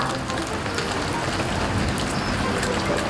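Steady rain falls outdoors in a continuous, even patter during a dog's bath, with no voices.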